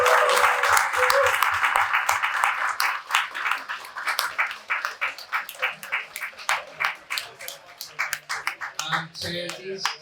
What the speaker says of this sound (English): I would like a massive, massive round of applause for this very esteemed panel.